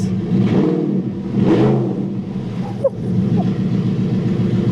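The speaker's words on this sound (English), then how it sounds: "NAV8 Quicksilver exhaust just sounds unbelievable. We'll just blip it a little bit." An Audi R8 with a NAV8 Quicksilver exhaust revs up in a couple of quick blips, its deep exhaust note swelling and falling back to a throaty idle, close by.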